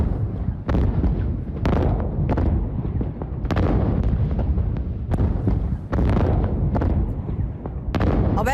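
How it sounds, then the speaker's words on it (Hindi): Loud, repeated explosive blasts at an illegal aluminium magnesium plant with dumped industrial waste in Haryana, several heavy booms and bursts in quick succession with continuous rumbling between them, no talk. "अवैध प्लांट में धमाके की ये तस्वीरें खौफनाक हैं।"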